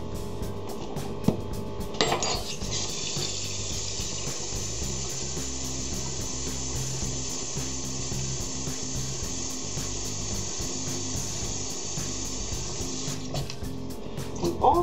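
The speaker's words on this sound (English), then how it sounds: "I'm going to add the water now," Water runs steadily into a cooking pot of seasoned oxtails, a continuous broad hiss and splash lasting about eleven seconds before stopping, with faint kitchen clatter around it.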